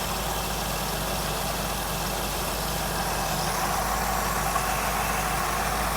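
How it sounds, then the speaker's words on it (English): The engine of a '57 Bel Air restomod idles a bit high, a steady, even hum with a constant low throb and broadband hiss that runs unbroken for several seconds, with no one speaking. "I feel that's idling a bit high"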